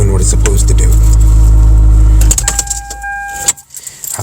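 Car engine cold-started in blizzard weather: a loud, close, rumbling run for about two seconds that then drops away, leaving quieter wind and scattered clicks.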